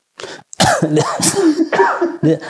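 A run of harsh, throaty coughs close to the mic, several bursts in quick succession with a rough, rasping edge.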